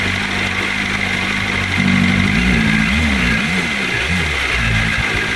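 A BMW M1000RR motorcycle with its catalytic converter removed idles loudly up close, then the revs rise in a few wavering blips with a deep, rough exhaust note.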